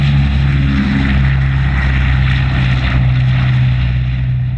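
Boeing B-29 Superfortress World War II bomber at an airport, its big radial propeller engines droning steadily and loudly throughout, a deep sustained rumble with no voices.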